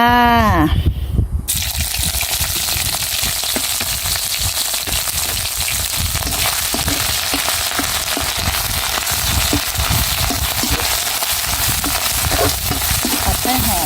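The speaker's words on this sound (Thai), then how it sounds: "กระทะน้ำมันของเราก็ร้อนดีแล้วนะคะเพื่อนๆเรามาใส่ พริกแกงเผ็ดของเราลงไปเลยจ้า" Loud, continuous sizzling and crackling of red curry paste frying in hot oil in a wok, starting abruptly after a brief moment and holding steady throughout.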